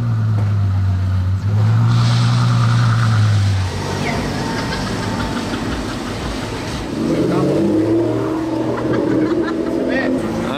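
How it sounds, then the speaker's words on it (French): A V12 supercar engine drives past, a loud low drone that rises and shifts in pitch as it goes by, with voices talking nearby over the engine noise. "Un V12 et un autre va le poursuivre."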